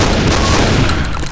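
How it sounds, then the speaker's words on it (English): A dense, continuous burst of machine gun fire in the Left 4 Dead video game roars loud and close, a saturated stream of rapid shots with no talking. "Grab a machine gun."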